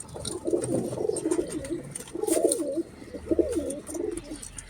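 Pigeons coo in repeated throaty phrases, fairly close and steady, with no talking over them.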